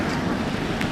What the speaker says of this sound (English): With all this wind, my fingers are frozen